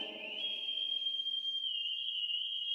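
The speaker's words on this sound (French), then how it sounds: "Ici, entre nous, on communique en sifflant." A human whistle carries a message: one long, steady, high-pitched tone held for nearly three seconds with a slight rising onset, clear and unbroken, against a faint low murmur in an animated desert scene.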